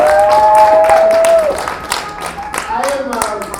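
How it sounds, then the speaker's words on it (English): A crowd claps in applause at an awards ceremony at VFWC, a dense, steady patter that fades slightly toward the end, with a thin whistling tone sounding over the first half. "could please give him a round of applause"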